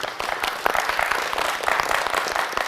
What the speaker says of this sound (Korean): 오늘 최선을 다해준 우리 구도연 학생에게도 큰 박수 부탁드립니다